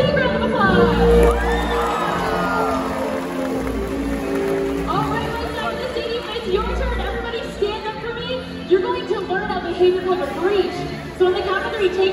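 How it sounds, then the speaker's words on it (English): A large audience at a SeaWorld Orlando orca show cheers and shouts with scattered clapping, lively crowd noise over music and splashing, with excited voices and whoops rising and falling. "let's give her a big round of applause"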